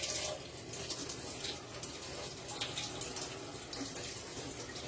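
Tap water runs steadily over russet potatoes being washed in a kitchen sink, a continuous close splashing rush that stays even throughout with no talking.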